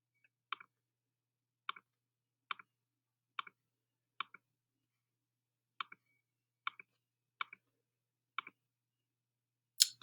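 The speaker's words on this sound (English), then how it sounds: "Let's type in our calculator" Calculator buttons pressed in a steady sequence, about ten short clicks spaced roughly a second apart, close and crisp with nothing else around them, ending in a brief louder burst.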